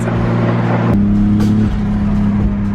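A BMW M3 engine revs hard to about 4,000 RPM and holds a steady high drone. The pitch steps up as it climbs, loud and close, with no voices.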